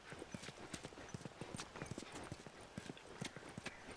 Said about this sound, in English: Horse is not coming over.